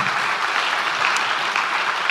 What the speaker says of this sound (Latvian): Ar aplausiem!